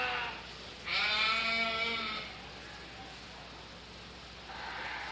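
A sheep bleats at a county fair sheep and goat show, a single wavering bleat rising clearly over a steady crowd and hall murmur, with a fainter second call near the end.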